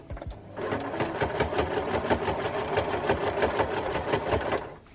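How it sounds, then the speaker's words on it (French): Sewing machine stitching the small remaining opening of a fabric dress belt, a steady fast mechanical chatter running continuously at close range after a brief start, no talking. "maintenant il reste juste à coudre le petit bout qui m'a permis de la retourner."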